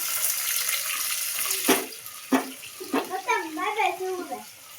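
Water pours into a pot of chicken curry, a steady splashing rush punctuated by a few sharp knocks, while a voice talks briefly over it near the end.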